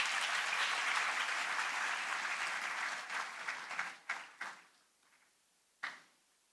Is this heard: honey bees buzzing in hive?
no